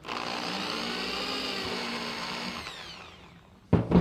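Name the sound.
power drill pre-drilling a pilot hole in wood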